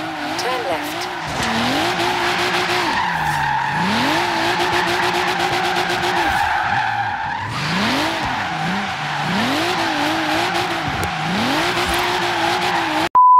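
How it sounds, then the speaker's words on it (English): Drifting car in Forza Horizon 3, engine revving up and down in sweeping pitch bends through repeated corners with continuous tire squeal and a voice talking over it. "Now let's see some more short cornering drifts."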